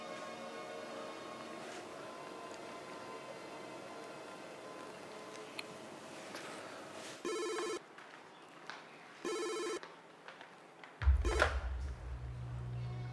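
A telephone rings in an Indonesian drama scene, three short electronic ring bursts spaced a couple of seconds apart, fairly close and clear over a quiet room tone with faint background sound.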